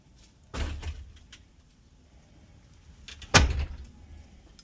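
A door bumps softly once and then shuts with a sharp, loud thud a few seconds later, against a quiet background.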